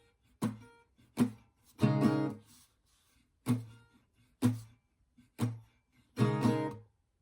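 An acoustic guitar plays a strumming pattern from a song. Muted down-up strokes sound as percussive chunks, and the last up-down strum in each group rings open. The groups repeat in a steady rhythm with no voice over them.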